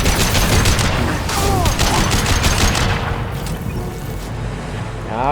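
Rapid gunfire from a Mass Effect 2 firefight on Insanity difficulty, with dense bursts of shots and booms in the first half that thin into a rumbling tail, loud and close.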